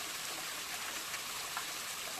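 Fresh spring water flowing steadily at Mount Wellington, a soft continuous rushing splash with no pauses, faint and alone.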